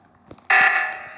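Oxygen sabotage alarm in the video game Among Us, a sudden loud electronic buzzing blare that starts abruptly and slowly fades, preceded by faint game sounds.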